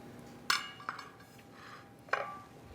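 Metal cutlery scraping and clinking against a plate of dairy-free veal moussaka with soft eggplant, a few sharp separate taps spaced apart, faint and close with no talking.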